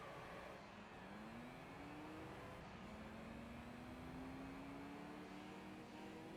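A Nissan Skyline accelerating in a 2001 racing simulator game, its engine note climbing steadily through a long rising pitch sweep after a short shift, faint and distant under a constant wash of game noise.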